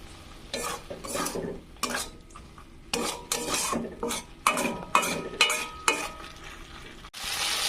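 Raw chickpeas go into ginger-garlic spices being sautéed in a pan, with a bright sizzle and sharp scraping stir strokes in an uneven rhythm, close and fairly loud.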